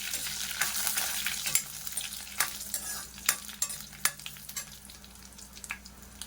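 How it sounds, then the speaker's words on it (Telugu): Dried red chillies fry in a pan for a tomato, coriander and mint chutney, with a constant soft sizzle broken by repeated spatula scrapes and clicks close by. "ఎండుమిర్చి అనేది బాగా ఫ్రై అవ్వాలి"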